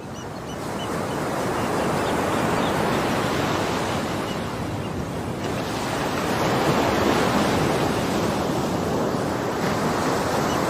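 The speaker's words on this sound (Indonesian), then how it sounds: "deburan ombak khas laut selatan" Ocean waves crash steadily onto the southern sea shore, a loud continuous roar of surf with rolling swells and wind, no voices.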